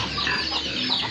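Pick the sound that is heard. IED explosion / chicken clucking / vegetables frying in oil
chicken clucking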